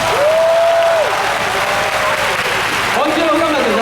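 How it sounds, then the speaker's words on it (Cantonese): A large crowd at a Hong Kong Admiralty Occupy Central rally claps continuously and loudly, with whoops and a voice cutting through the sustained applause. "我哋俾啲掌聲佢好唔好啊？"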